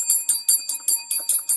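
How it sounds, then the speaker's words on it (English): A bright metallic hand bell rings in rapid repeated strokes, about eight quick clangs in a steady rhythm, loud and close with no voices. "I'm going to give you the Lambo Bell."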